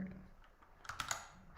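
Typing on a computer keyboard, a quick run of close, crisp key clicks after a brief murmur of speech at the start.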